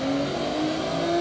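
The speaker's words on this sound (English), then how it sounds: "There goes that engine kicking on." Engine of a Ferrari SF90 or 296 GTB supercar kicking on, a brief steady droning growl held at a fairly loud level, with no talk.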